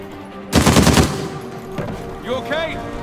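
A loud, close burst of automatic gunfire in the video game Uncharted 4, about half a second of rapid shots followed by a softer report, with a voice speaking afterward.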